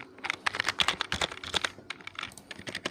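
Rapid, irregular keystrokes on a computer keyboard while text is typed into a Revit annotation. The clicks are close and fairly loud, with no voices.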